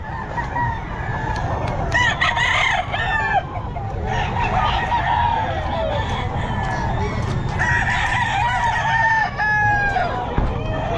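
A young gamecock, a round-head ball stag, crows repeatedly at a busy Bocaue pet market, with other roosters crowing and clucking nearby over a steady murmur of crowd noise.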